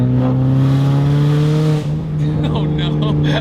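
A Mazdaspeed 3 hatchback with a six-speed and an open downpipe drones loudly and steadily while driving, its engine note dipping briefly as a shift happens midway, with a voice talking over it.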